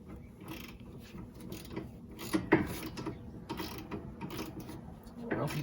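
Ratchet or wrench clicking and mechanical turning while tightening a sway bar end link nut on a Honda Pilot, steady repeated working sounds close by with some handling noise.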